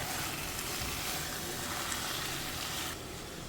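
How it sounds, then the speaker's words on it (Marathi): Mutton masala sizzling and frying in a pan with salt added, a steady broadband hiss close up that drops slightly in level near the end, with no voices. "सो आतां बरें हें आमकां मिक्स करून घेवंक जाय."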